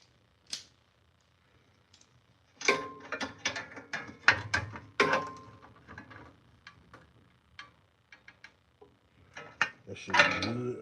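Bolts being tightened with a ratchet: bursts of quick clicking ratchet strokes, mostly close, with pauses between them and scattered metallic ticks, fairly loud with no talk.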